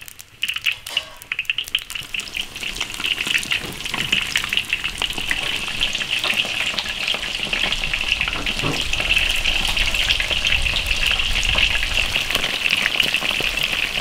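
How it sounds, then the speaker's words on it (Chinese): Fish coated in starch is deep-frying in a wok of hot oil, giving a continuous bright sizzle that starts with a burst as the fish goes in and then holds a steady, close crackling hiss with no talking. "把那个鱼上面裹点淀粉， 油温七十，把鱼炸一下。"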